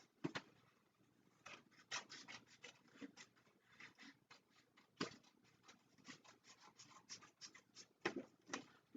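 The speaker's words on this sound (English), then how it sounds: "So I'm going to cut along that line." Scissors snip along a folded line while trimming off an extra piece during a table build, a run of quiet, close, rasping cuts in irregular bursts, some sharper snips standing out.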